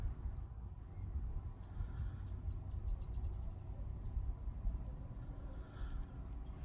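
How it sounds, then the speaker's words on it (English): Short, high desert bird chirps repeat sporadically in Saguaro National Park over a low, steady rumble of wind or distant traffic, faint and outdoors. "Do you hear the birds?"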